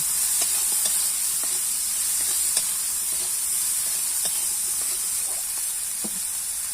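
Prawns frying with turmeric in a pan give a loud, constant hissing sizzle close by, dotted with soft pops and light stirring taps throughout.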